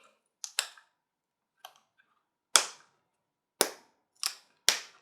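Metal snaps being set into thick leather on a gun belt, seven sharp, isolated clicks and snaps spaced irregularly, close up against a quiet background.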